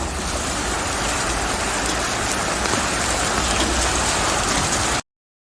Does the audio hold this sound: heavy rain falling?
yes